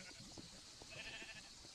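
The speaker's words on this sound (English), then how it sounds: "It's a goat, guys." Goat bleats from Minecraft, faint and intermittent beneath a busy layer of game sounds, with short wavering cries spread across the moment.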